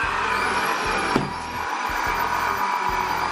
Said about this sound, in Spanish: Y ahora a utilizar mi electrodoméstico favorito, la aspiradora.